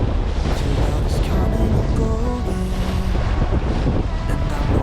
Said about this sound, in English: we've got our second reef in the main, and we've got full Genoa out, and we're rocketing along at about 5 knots now